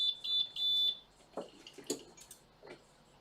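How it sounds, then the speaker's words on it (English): A heat press timer alarm goes off in a few loud, repeated high beeping bursts, followed by scattered handling noises as the pressing ends. "So when our timer goes off here"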